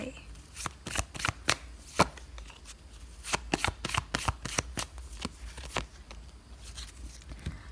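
Tarot cards being shuffled by hand, a close series of sharp, irregular riffling slaps and flicks that come in bursts with brief pauses between them.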